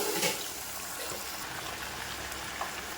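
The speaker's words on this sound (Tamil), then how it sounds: "இதில் நல்லா வேகிற அளவுக்கு கொஞ்சம் தண்ணி ஊற்றிக்கோங்க." A little water is poured into mango pachadi cooking in a pan, making a close, steady rushing splash that fills the whole moment, with no talking.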